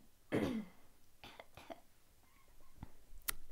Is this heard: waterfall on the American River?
no